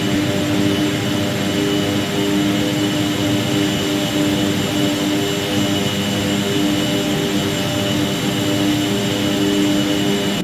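A King Air C90B turboprop in the X-Plane flight simulator drones continuously, a loud steady engine roar with a high whine and wind noise, unbroken throughout.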